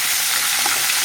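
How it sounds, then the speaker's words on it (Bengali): Three last pieces of fish fry in hot oil in a home kitchen, giving a steady, close, hissing sizzle with no voices. "ভাজতে দিয়েছি"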